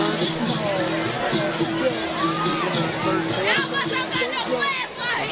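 Crowd of fans at a high school homecoming football game between Beauregard and Sylacauga, a steady, dense murmur of chatter and shouting with scattered cheers rising throughout, no single voice standing out.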